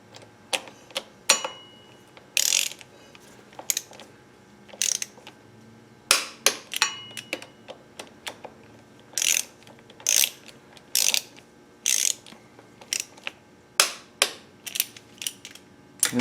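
A ratchet wrench tightens the front brake disc bolts on a 2008-2018 Kawasaki KLR 650 motorcycle, giving repeated bursts of sharp clicking close up, separated by short pauses.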